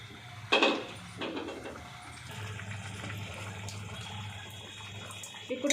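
Water splashes and pours in short bursts into a curry, then a steady low trickle runs for several seconds before another splash at the end.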